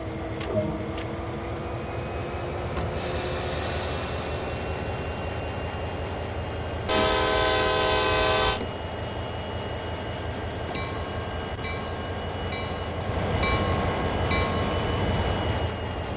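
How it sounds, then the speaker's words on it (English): A diesel locomotive on the Clinchfield railroad in the Train Sim World 2 video game pulls away under light throttle, with a steady low rumble, a brief loud hissing burst partway through, and faint tonal chimes near the end. "Use the throttle and apply a small amount of power to get moving."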